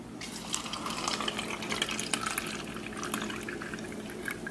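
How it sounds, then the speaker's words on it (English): Steady running water from a tap splashes and gurgles continuously over produce being washed, with small drips and pouring sounds, close by and fairly loud throughout. "when you wash them off with the strong Kangen water"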